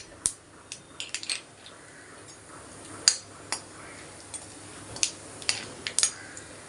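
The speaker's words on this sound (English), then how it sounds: "Mustard seeds goes in. When it splutters, add the jeera." Mustard seeds popping in hot oil, with scattered sharp faint crackles and ticks at irregular intervals over a quiet background.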